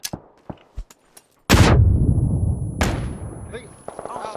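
Gunfire in the battle game PUBG: a few sharp distant shots, then two loud booming blasts with long rumbling decay, close and heavy, with faint game sounds between.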